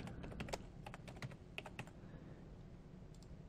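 Rapid clicking of keys on a computer keyboard as a short search term is typed, a burst of distinct close keystrokes that then stops, leaving only quiet room tone.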